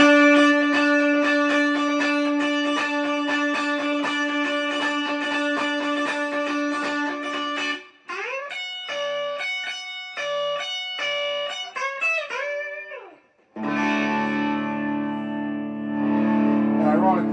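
A Fender American Professional Telecaster through distortion rings out with sustained, buzzy chords, then plays a series of shorter sliding notes before returning to a thick, held chord.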